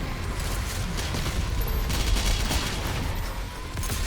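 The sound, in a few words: Super Shotgun and Ballista firing in video game Doom Eternal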